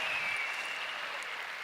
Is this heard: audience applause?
yes